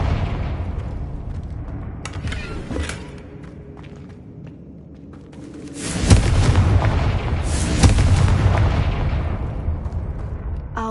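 An explosive Confringo spell goes off in the Hogwarts Legacy video game, a loud sudden blast partway through followed by a sustained roaring rumble and crackle. A quieter thud comes earlier, and no one speaks.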